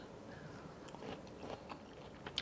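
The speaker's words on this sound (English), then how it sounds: "They still have that nice little crunch" Close, quiet bites and chewing of crunchy oven-baked jicama fries, with a few soft crisp crunches spread over a couple of seconds and no talking.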